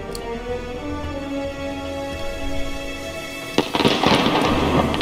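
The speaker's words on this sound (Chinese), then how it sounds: "烟火已经放了，有没有？" Fireworks burst in the stealth video game Hitman 2: a sudden crackling onset partway through, then a dense, loud flurry of popping explosions over a steady game ambience and music bed.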